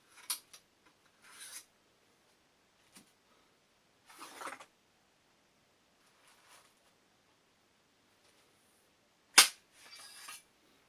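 A hybrid semi-automatic hunting shotgun is taken apart, giving sparse close metallic clicks, scrapes and rubbing sounds separated by quiet gaps, with one sharp loud clack near the end followed by a brief rasp.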